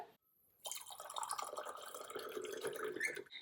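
Filtered water is poured into the lower chamber of a moka pot, a steady splashing pour that starts after a brief quiet moment and runs on for about three seconds.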